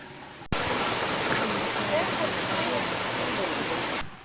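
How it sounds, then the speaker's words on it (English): Water rushes steadily through the wooden flumes of Mabry Mill, a water-powered mill on the Blue Ridge Parkway, starting abruptly as a loud, close, even roar and then cutting off near the end. "they got the mill running"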